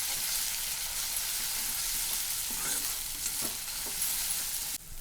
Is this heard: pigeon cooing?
no